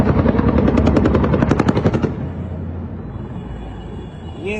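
Helicopters flying over Caracas, a loud rhythmic rotor thump dominating the first two seconds before easing into a steadier, fainter engine rumble that continues to the end.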